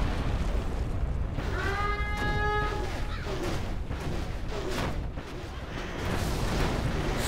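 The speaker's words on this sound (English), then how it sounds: "Scud launcher, poised to strike." Scud launchers fire missiles in Command & Conquer Generals, giving dull booming launches and rumbling blasts over a noisy battlefield, with a short voice line early on.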